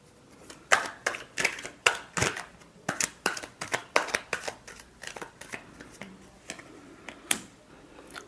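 A deck of tarot cards is shuffled by hand in a quick series of crisp riffles and snaps, about two dozen sharp flutters in an uneven rhythm, close and fairly quiet.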